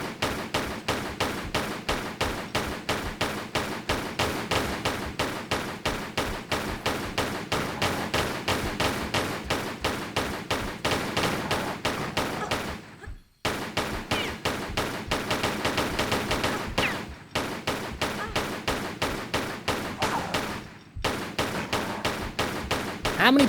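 Steady rapid gunfire in Tomb Raider 3 Remastered, a long string of evenly spaced shots in sustained runs, broken by a few brief pauses before resuming just as loud.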